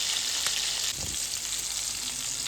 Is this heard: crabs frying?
yes